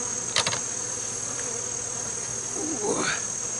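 Honey bees hum around an open beehive during an August inspection after a flood, a steady, even buzz running throughout with a brief rustle near the start.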